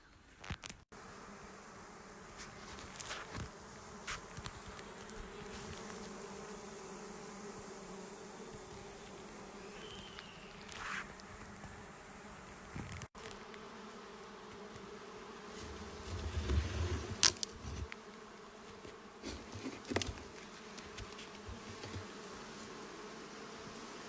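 Honey bees buzzing around hives on a homestead, a soft steady drone close by with occasional louder passes near the microphone.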